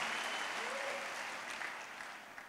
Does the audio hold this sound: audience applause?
yes